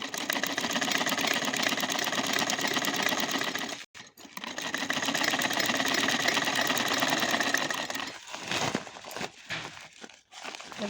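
A sewing machine stitches fabric with a fast, steady mechanical whir, pausing briefly once, then stopping near the end as the cloth rustles and crinkles with a few handling noises.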